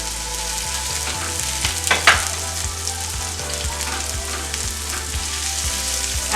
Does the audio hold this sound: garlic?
yes